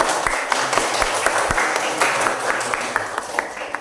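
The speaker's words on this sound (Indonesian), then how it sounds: "Ya, kalau sudah bagus beri dulu tepuk tangan." Classroom students applaud a classmate, a steady round of many hands clapping with distinct sharp claps near by and a faint voice underneath.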